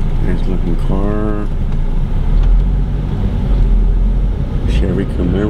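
A yellow Chevy Camaro rolls past on a street with a low, steady engine rumble under loud nearby voices talking.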